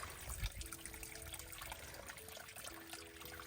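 Water splashing and trickling steadily as it overflows from a gravity-feed water tank, a continuous wet spill with a brief louder gush near the start, fairly close.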